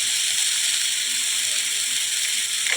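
Bitter gourd frying with chopped onion in a pan, giving a steady, even sizzle and hiss that runs throughout without a break, close and fairly loud, with no talking over it.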